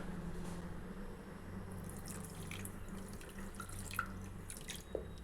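Water poured into a pan of sugar to make syrup for badusha, a steady close trickle with occasional drips and splashes, no talking.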